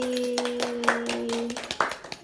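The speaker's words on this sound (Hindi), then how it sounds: "ल ताली" Hand clapping at a grandfather's 83rd birthday celebration, a few close, sharp claps that are uneven in rhythm and heard over a sustained tonal background.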